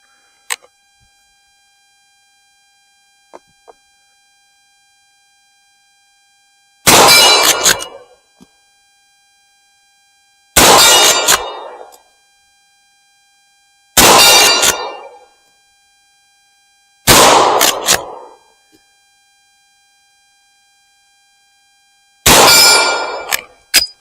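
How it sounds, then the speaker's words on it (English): Five loud, sharp reports from a roughly 120-year-old Winchester 1892 saddle ring lever action rifle in .44-40, spaced a few seconds apart, each ringing briefly, with faint metallic clicks of the lever cycling before the shots. "Okay, I'm going to take 5 shots. Basically to show the rifle cycling."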